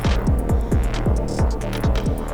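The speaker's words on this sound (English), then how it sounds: "and open up the filter" A pulsing electronic techno loop from an Elektron Digitakt with a steady four-on-the-floor kick, its bright upper tones gradually opening up as the synthesizer filter opens over the repeating beat.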